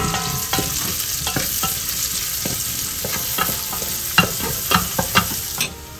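Garlic sautés to golden brown in a hot pan for a Filipino mung bean stew, with a steady loud sizzle and crisp scraping clicks from stirring. No one speaks.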